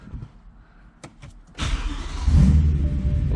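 A BMW E92 M3 with part of its exhaust removed fires up after a few clicks and clunks, the starter catching into a deep, loud, rough rumble that swells and settles into a boomy idle.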